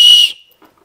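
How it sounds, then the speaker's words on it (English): A survival keychain whistle from a bug-out kit gives one short, piercing blast, very loud and close, then cuts off into silence. "We've got a whistle."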